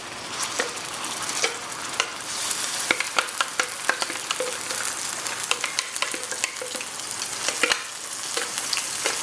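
A Thai green curry paste mixture sizzles loudly in a hot pan, steady frying hiss broken by sharp crackles and spatters as it is stirred, with no talking.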